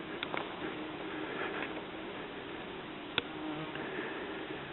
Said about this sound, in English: There's so many bees on it.